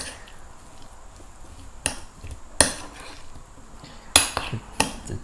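A utensil stirs broccoli salad in a bowl, giving a handful of sharp, scattered clinks and taps against the dish over a quiet background.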